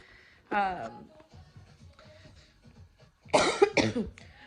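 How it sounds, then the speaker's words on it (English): Two bursts of harsh coughing from a person with COVID, a couple of seconds apart, with quiet background noise between them. "The cough has gotten worse"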